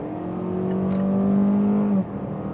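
A Mazda CX-5 in sport mode accelerates on a motorway from about 75 km/h, a steady rising engine drone with road noise that climbs for two seconds before easing off.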